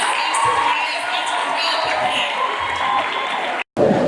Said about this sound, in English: So with a resounding round of applause